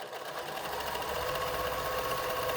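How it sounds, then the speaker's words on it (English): Sewing machine stitching together quilt patches, a steady fast mechanical whir and rapid needle chatter running continuously and close up. "So as you sew it, make sure that you get the edges together"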